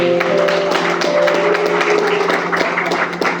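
A church congregation claps together in a steady, crowded burst of applause, heard over a low sustained hum with faint tones beneath it.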